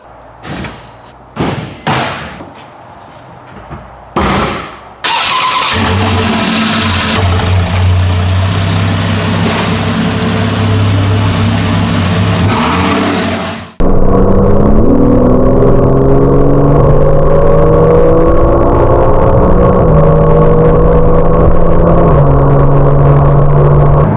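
A few door thumps give way to a Porsche 911 engine starting and idling steadily, then rising into louder revs with climbing tones, close by and with no one talking.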